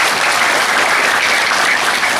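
Loud, dense audience applause for Syekh Akbar at a Tarekat Idrisiyyah gathering declaring support for Sandiaga S. Uno, sustained and even for a couple of seconds without talk.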